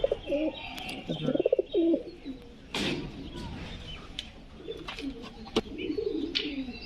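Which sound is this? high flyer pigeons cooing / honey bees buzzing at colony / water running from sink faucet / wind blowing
high flyer pigeons cooing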